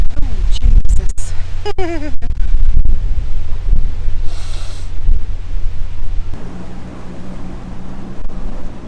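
Strong gusts buffet a narrowboat crossing a canal aqueduct in gale-force wind, loud roaring wind noise on the microphone throughout, with a person's exclamations and voices near the start.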